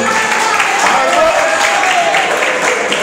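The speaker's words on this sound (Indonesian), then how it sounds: "Tepuk tangan untuk Tuhan Yesus." Applause from a church congregation, steady sustained clapping filling the room throughout, with some voices mixed in.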